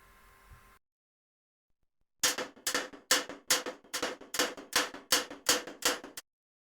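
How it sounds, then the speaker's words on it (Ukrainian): A hammer strikes repeatedly in a steady rhythm, about a dozen sharp, close blows after a brief silence. "Звук молотка."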